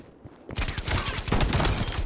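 Gunfire in the video game Black Ops Cold War starts after a quiet moment and continues as a close, loud, rapid stream of shots without pause.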